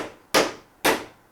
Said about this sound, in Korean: 그 상태로 망치질을 하시는 거예요.